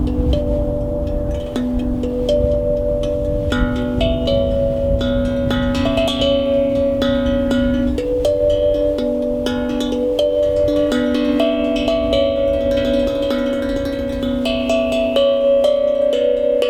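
A melody on a double-sided glucophone, a steel tongue drum, rings out in bright sustained metallic tones, one note after another in a steady flowing rhythm, close and full with long overlapping decays.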